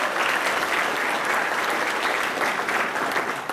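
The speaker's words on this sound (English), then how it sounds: "let's give them a big round of applause, please" Audience applause for presenters at an awareness seminar on sexual assault, alcohol and drugs: dense, steady clapping from a full room, loud and sustained for the whole stretch without a break.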